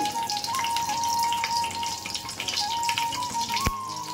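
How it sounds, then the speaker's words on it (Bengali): Bay leaves and dried red chillies crackle and sizzle in hot oil in a kadai, a steady close frying hiss with small popping drips, alongside a faint steady tone. "তারপর দুটো তেজপাতা ছিঁড়ে দিচ্ছি। দুটো শুকনো লঙ্কা দেব ফোড়নের জন্য।"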